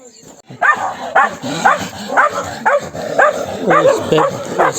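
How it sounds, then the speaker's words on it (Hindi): Dog barking repeatedly in sharp, close, rhythmic yips about twice a second, with a person's voice mixed in alongside the barks. "उस पे भौंक रहा कि भाई आ मत,"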